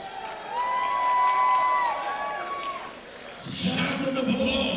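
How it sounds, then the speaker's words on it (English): Crowd at a combat sports event applauding and cheering before the main event, a swelling wash of claps that fades briefly then rises again, following a ring announcer's voice. "Sound of applause."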